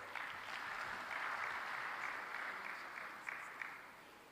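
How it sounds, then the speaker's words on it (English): Audience applause at the third African coffee-producing countries summit in Dar es Salaam, a steady wash of clapping held at moderate, fairly distant level for several seconds with a couple of sharper claps near the end. "I believe a bigger round of applause would do."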